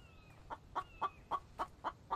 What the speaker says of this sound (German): Es lacht uns aus, dieses Huhn.